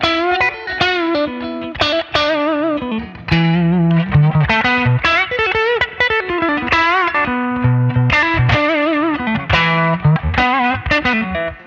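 A distorted electric guitar played through a Blackstar Beam Mini practice amp plays loose, noodling lead lines with chorus and effects, continuous and fairly loud, with no voices.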